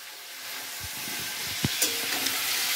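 Chicken cooking with garam masala in a pan gives off a steady hiss of frying, broken by a few soft thuds and clinks of stirring, close by and with no talk.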